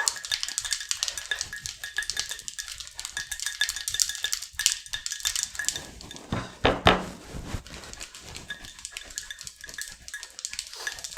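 Ice rattles inside a cocktail shaker as a Ramos Gin Fizz is shaken hard, a continuous rapid churning with a muffled rhythmic thumping and clatter, steady and close with no voices.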